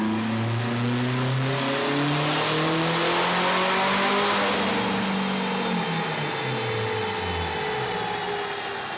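A turbocharged 8th-generation Honda Civic engine revs hard on a dynamometer, its loud rising and falling harmonic whine sweeping up through the run and easing off near the end, continuous and close with no voices.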